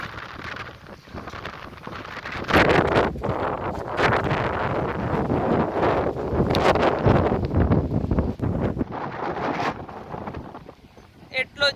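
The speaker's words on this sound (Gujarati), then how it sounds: "એટલો જબરજસ્ત પવન આવી રહ્યો છે, ઠંડો ઠંડો." Strong cold wind buffets the microphone on a boat out on rising water near a bridge as a storm approaches, a loud continuous gusting roar with flapping bursts throughout.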